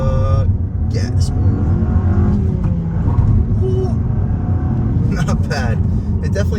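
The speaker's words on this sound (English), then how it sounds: "We'll try an acceleration off the line." A 2024 Mazda 3 Premium pulls away from a stop under throttle, its engine note building as a steady rumble close to the cabin, with a voice talking over it.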